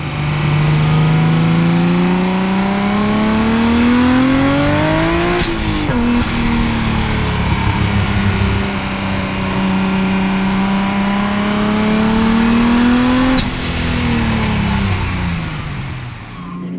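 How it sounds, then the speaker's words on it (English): A Datsun 240Z sports car with an RB26 engine revs hard through first gear, pitch climbing steadily, dropping at a shift, then climbing again; loud, close, continuous. "First gear wind out. It's just crazy power, isn't it?"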